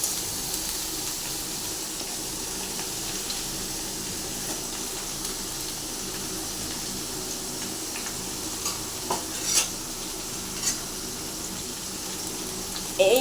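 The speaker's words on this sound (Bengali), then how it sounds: "এরকম একটা খুন্তি নিয়ে নাড়তে হবে।" Eggplant and potato curry with lentil dumplings cooking in oil, a continuous close sizzle with occasional scrapes and knocks of a metal spatula stirring, ending in a louder clatter; no speech.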